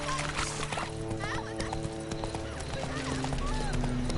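Horse hooves clip-clop in a steady rhythm with an occasional whinny, close and fairly loud over a busy, layered game-like background with voices.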